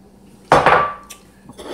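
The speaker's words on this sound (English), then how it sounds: "I'm going to put the peaches into the pan." Peaches for a cobbler go into a pan with a single loud, close clattering thud and a brief ringing tail, then a softer knock or two follow.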